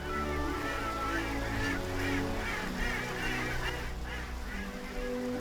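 Flocks of migratory water birds rest on a river beside a city, honking and calling continuously in a dense, overlapping chorus over a steady low background rumble.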